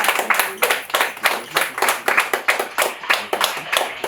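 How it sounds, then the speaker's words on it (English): An audience at a conference in Odisha claps steadily, dense overlapping hand claps forming a sustained round of applause with a rhythmic pulse, fairly close and loud. "Have a big round of applause."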